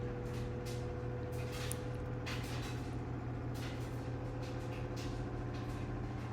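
Steady droning hum of a running washing machine with scattered knocks and rattles over the top, constant and somewhat muffled.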